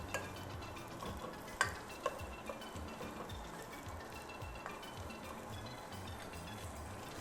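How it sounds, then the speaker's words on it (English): Ingredients for Caribbean rice and beans sauté quietly in a pan, a faint soft sizzle with occasional light scrapes and clicks of a utensil against the metal. "we're going to saute this for about 2 or 3 minutes"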